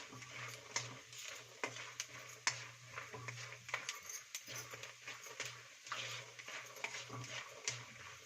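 A spoon scrapes and clinks against a pan while puffed rice is stirred and roasted, giving irregular faint taps and rustles over a low steady hum.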